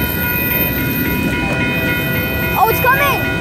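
A long Union Pacific freight train rolls past at El Paso with a loud, steady rumble, and near the end a brief voice or squeal rises above the noise of the wheels.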